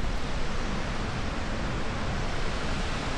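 A waterfall in northern Luzon roars as a steady, dense wash of rushing water, loud and continuous with no other sounds.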